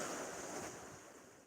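Black Sea waves washing onto a stony beach in the off-season, a steady broadband rush of surf with wind noise, fairly close and continuous.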